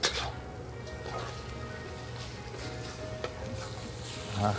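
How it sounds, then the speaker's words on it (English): Food frying in a home wok: a soft, steady sizzle with faint crackles and a few small clinks, fairly quiet and close. "Now you can see here it's sizzling"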